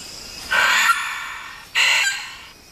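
A Vogelkop bowerbird imitates a sulphur-crested cockatoo with two loud, harsh screeches, each about half a second long and separated by a brief gap, close and clear.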